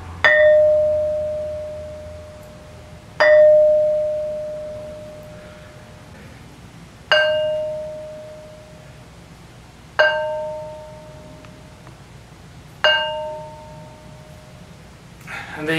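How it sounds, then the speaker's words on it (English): Ancient stone struck five times with gaps of a few seconds, each blow ringing out with a clear bell-like tone that decays slowly and reverberates, heard alone against a faint background. "Demonstration how these stones ring like bells"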